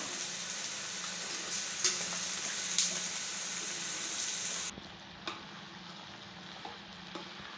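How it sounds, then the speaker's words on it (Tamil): Cut brinjal (eggplant) sautéing in hot oil for a Tamil kathirikai poriyal, a steady moderate sizzle with a few soft stirring clicks; the hiss drops quieter partway through and continues more gently, with no talking. "சேர்த்துட்டு எண்ணெயிலேயே நல்லா வதங்கணும்"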